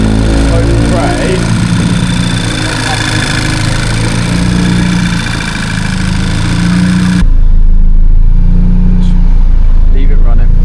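A tuned Audi A3 8P engine runs steadily nearby, a loud buzzy idle with a droning low rumble and slight vibration, still warming up, continuing without a break.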